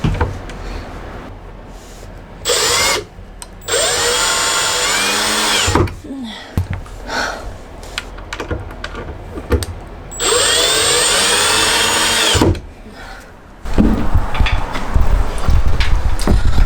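A power drill drives screws into a closet being built inside a short school bus conversion. It runs in several loud bursts of a few seconds each, with quiet pauses between them and no talking.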